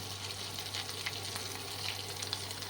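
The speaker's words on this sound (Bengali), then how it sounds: "এই তেলেই আমি একটা তেজপাতা অর্ধেক করে ছেঁড়া আছে, 2 ছোটো এলাচ, 1 টুকরো ডালচিনি আর হাফ চা চামচ জিরে আমি ফোড়ন দিয়ে দিচ্ছি।" Whole spices (half a torn bay leaf, two small cardamom pods, a piece of cinnamon and half a teaspoon of cumin) sizzle in hot oil left from frying taro, a close, steady crackling hiss with small pops and no voices.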